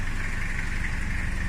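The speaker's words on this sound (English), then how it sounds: "beautiful sound of a very powerful diesel engine. We are in neutral. It is a cold engine" A cold 1993 Toyota HiAce 4x4 fire truck's powerful diesel engine idles in neutral, a steady, close rumble with even low throb and no other sounds.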